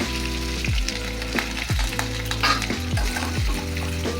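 Golden onions frying for uppittu with potato, carrot, beans and peas. Loud, close sizzling with repeated scraping stirs of a spatula every second or so.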